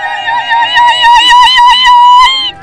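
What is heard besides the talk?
women's ululation (zaghrouta)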